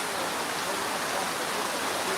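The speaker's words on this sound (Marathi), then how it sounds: "सलग दोन तास झालं मोठ्या प्रमाणात पाऊस सुरू आहे" Heavy cloudburst-like rain pours down without pause, a loud, continuous hiss and patter of water that fills the whole scene evenly from start to finish.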